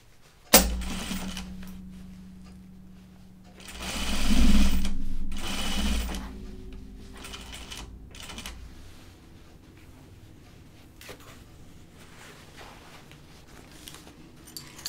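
A home sewing machine stitches fabric for a pair of bibs, running in short bursts with a clear mechanical whir, then pausing between slower, quieter stitches close by.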